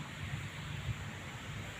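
Wind gusting across an open vegetable field where young bitter gourd plants are starting to climb, a steady low rumble of buffeting air on the microphone with no voices.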